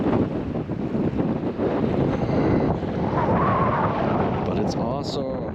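Strong wind buffets across a reservoir at sunset, roaring as a loud, continuous gusty rumble that mostly swamps the surroundings.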